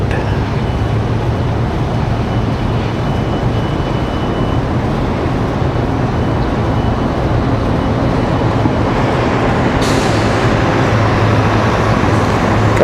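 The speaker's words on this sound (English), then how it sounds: "Couple of buses rolling by." Buses roll past on a road near Washington Dulles airport, making a loud, continuous low rumble of engines and tyres that stays steady throughout, with no voices.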